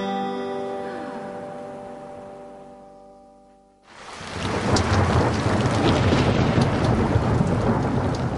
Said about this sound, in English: it's raining so hard we can't even see the mountains